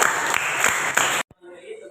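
Classroom students clap for two classmates, a busy burst of hand claps with a few sharper accents that cuts off abruptly after about a second, leaving near silence.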